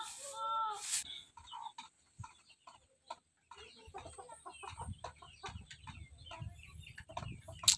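A Japanese Shamo gamecock of the Gohan line clucks in a backyard, a sharp call at the start followed by scattered soft clucks and rustling, fairly faint.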